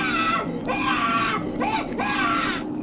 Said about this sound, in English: I learned, boss, that if I scream like this...